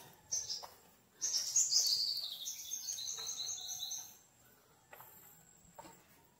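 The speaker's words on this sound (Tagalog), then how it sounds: "yung maririnig natin is hunilang ng ibon" Birds in the forest on Mt. Pajo give bright, high chirps and short trilling phrases, one fuller burst standing out, against a quiet background with faint insect-like buzzing.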